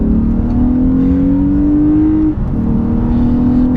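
A 2015 Lexus RC350 F Sport RWD engine revving loudly from inside the car, its pitch rising steadily under throttle, dipping briefly at a shift, then climbing again, with no talking.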